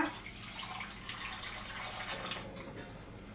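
Steady, soft splashing and trickling of water being poured into a cooking pot, continuous for a few seconds at close range, with no talking.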